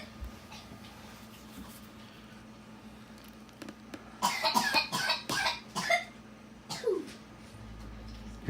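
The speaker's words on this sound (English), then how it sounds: "Hear my son coughing like crazy in the background" A young boy coughs in a burst of several harsh coughs from another room, some distance off, over a low steady hum during a miniature painting and basing session.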